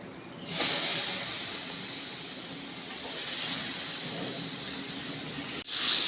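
Washed val beans, brinjal and potato are dropped into hot masala in a pan, setting off a loud, steady hissing sizzle that swells and fades, with a short break near the end.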